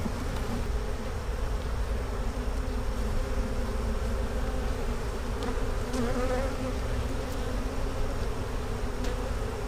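Honey bees buzz steadily in an open hive during an inspection for European foul brood, a dense, continuous drone close by with no talk.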